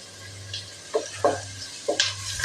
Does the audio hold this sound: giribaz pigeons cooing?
no